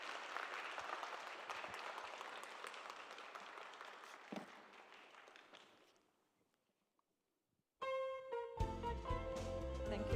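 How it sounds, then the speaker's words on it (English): A conference audience applauds after a keynote speech at an opening ceremony, a dense clapping that gradually fades to near silence before music begins. "Why don't you give him a big round of applause one more time?"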